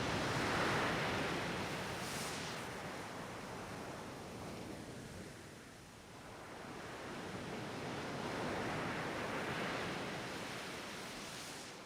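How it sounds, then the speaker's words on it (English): Big surging ocean waves roll and crash in a steady broad wash of surf, swelling loud, easing briefly in the middle, then building again, with wind noise and no voices. "A big surging wave came and it washed her out to sea"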